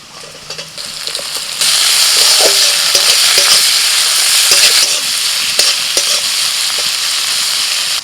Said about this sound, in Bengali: পেঁয়াজটা অর্ধেক ভাজা হলে এবার দিয়ে দিচ্ছি আমি টমেটো কুচি